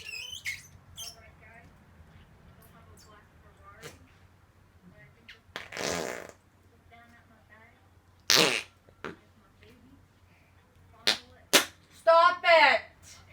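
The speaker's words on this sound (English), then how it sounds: "did you just fart?" Several short, loud, wet fart noises burst out near and at irregular intervals, set against a low background hum, with brief squeaks and voices between the bursts.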